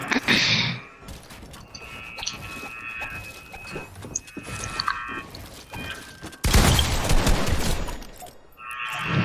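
Gunfire and impacts in a shooter video game, scattered shots and clattering bursts with a loud sustained blast near the end, mixed with busy game effects.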